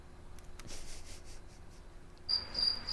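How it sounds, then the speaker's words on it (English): Cricket chirping sound effect played after an unanswered quiz question on a café TV afternoon show: a steady high-pitched insect trill comes in partway through and continues to the end, fairly clear over faint room noise. "There's the crickets."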